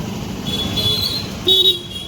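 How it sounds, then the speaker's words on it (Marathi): Short horn toots sound amid road traffic on a rainy day in Mahad, Konkan, two brief honks over a low engine rumble, close by. "इथं लागले ट्रॅफिक"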